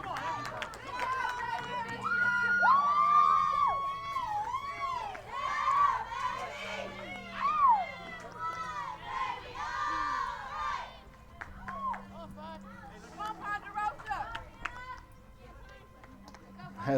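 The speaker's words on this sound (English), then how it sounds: "As the Vikings giving a cheer to Hannah Bolin after her double." Softball players and fans cheer and shout at a college game after a double to left field, a loud crowd roar of whoops and yells that rises and falls, with a commentator talking through it.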